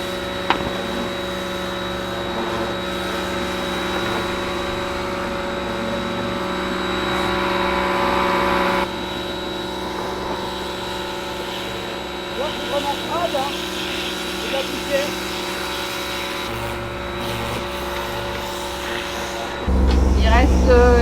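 A sailboat's engine drones steadily while motoring at sea on a windless Canaries to Cape Verde crossing, a constant low hum with tonal whine running throughout, under occasional cabin clatter and a louder rumble at the very end.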